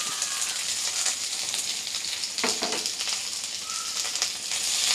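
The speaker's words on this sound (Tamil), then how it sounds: "இதை நல்லா வதக்கிக்கோங்க" Chopped onion and five or six garlic cloves sauté in a hot pan for pudina pachadi, giving a steady, close hiss of frying with brief scraping stir strokes partway through.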